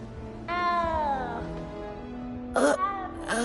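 A frightened little cat in Hogwarts Legacy gives a long, drawn-out meow, followed by shorter, sharper meows near the end, heard close and clear against a quiet game background.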